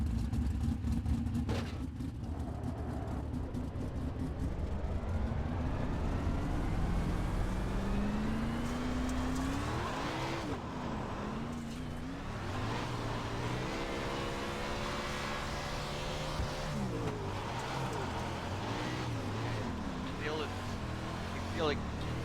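The engine of a non-wing 410 sprint car in the iRacing simulator drones and revs, its pitch climbing, dipping and rising again through gear changes, sustained and steady beneath a voice talking over it.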